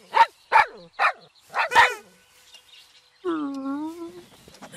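Five sharp barks from a cartoon dog ring out in quick succession, followed by a drawn-out whine and a few faint sounds after.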